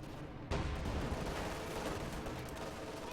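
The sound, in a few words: Panther tank's triple machine guns firing, Company of Heroes 2 video game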